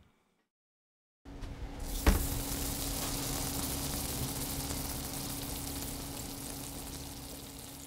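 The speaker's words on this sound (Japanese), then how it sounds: "その上にハンバーグを置いてちょっとクツクツってジューっていうような" A hamburger steak sizzles on a hot stone plate, a steady frying hiss that starts abruptly after a second of silence, with a sharp pop just after and a continuous close, even crackle after that.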